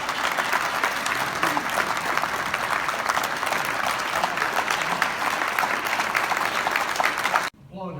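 A banquet audience applauds a general with dense, steady clapping and some crowd murmur underneath, cutting off abruptly near the end.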